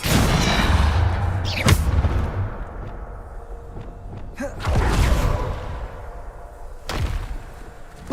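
A Depulso spell cast in Hogwarts Legacy gives a series of booming, thumping blasts with a rumbling low end, several separate impacts spaced a second or two apart and fading between them.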